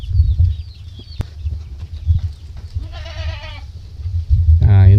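Goats on a small farm, recently moved to a pen near the house, let out two bleats, a wavering one midway and a louder one near the end, over a low rumble of background noise and faint murmuring.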